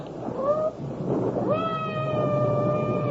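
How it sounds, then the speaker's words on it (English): A cat meows twice in a radio drama, with a short rising cry followed by a longer drawn-out wail, close and clear over a low rumble of thunder and rain. "I hope that cat isn't trapped somewhere."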